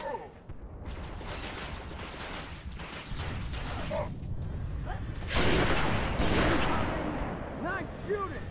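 Rapid gunfire from a first-person shooter fills the scene, dense bursts of shots with booms in a running firefight, while characters call out over the shooting.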